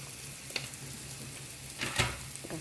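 Chilli powder and sugar spice mix stirred in a hot pan, with a low steady sizzle and a few soft scraping strokes, the loudest near the end.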